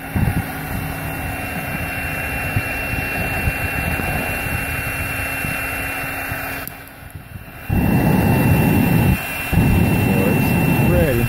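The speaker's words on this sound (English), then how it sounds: "That's already burning wood gas, but it ain't staying lit by itself yet." A homemade wood gasifier burning wood gas with a fan gives a steady, loud roaring rush that breaks off briefly, then returns in two stronger surges.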